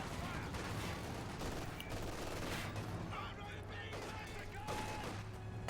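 Grenadier light machine gun fire in Company of Heroes 2, a steady dense chatter of automatic bursts layered with other battlefield gunfire and explosions, continuous and loud throughout.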